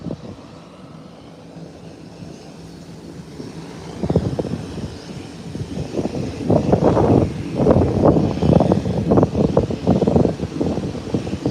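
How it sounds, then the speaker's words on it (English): An Air Canada airliner takes off down the runway. A low, wind-blown rumble swells after a few seconds into a loud, steady engine roar that keeps rising through the rest of the clip. "Whilst Air Canada is rolling away. She's rolling down the runway."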